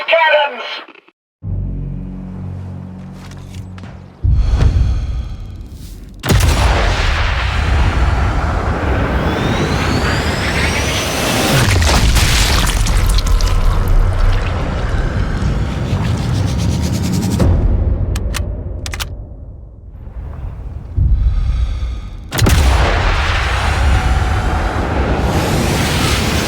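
Loud in-game battle din from Sniper Elite Resistance, with heavy cannon fire and explosions rolling in long booming surges and low rumble, briefly broken by quieter gaps and overlaid with spoken voices.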